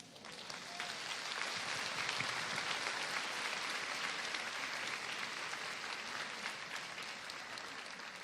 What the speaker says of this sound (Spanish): Pues gracias por sus aplausos.